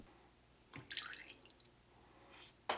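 Melted candle wax is poured back into a Digiboil pitcher, giving a few soft liquid splashes and drips, with one burst near the start and another at the end, faint and close.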